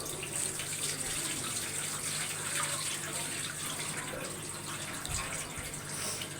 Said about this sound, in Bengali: চালটা ধুয়ে নিচ্ছে।